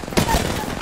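Gunfire in the video game Apex Legends: a single sharp, loud burst of shots, very brief, with a voice faintly underneath.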